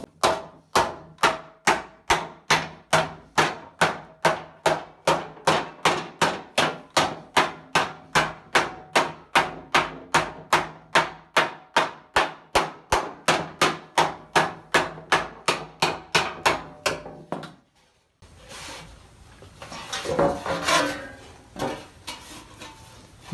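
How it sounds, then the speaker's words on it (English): A hammer rapidly planishes a steel armor backplate on an anvil, dozens of evenly spaced sharp metallic strikes in a steady rhythm, followed by a brief pause and some handling clatter. "then I'm going to go planish it out on the anvil"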